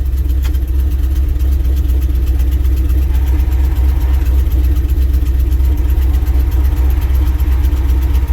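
A 1967 International 4x4 truck, revived after sitting 20 years, runs continuously at a steady loud idle with a deep low rumble and constant drone, close by and without talk.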